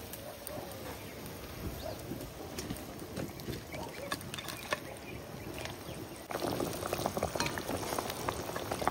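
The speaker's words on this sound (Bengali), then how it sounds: "মাছের জল ফুটে উঠছে, মাছটা দিয়ে দেবো।" Water for a village-style silver carp fish curry boiling in a pan: a continuous dense bubbling and crackle that grows louder and busier near the end, with no talking.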